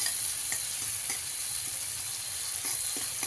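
Chillies fry in hot oil for a fenugreek leaf dish, with a constant bright sizzle and occasional soft scrapes of stirring, close and steady throughout.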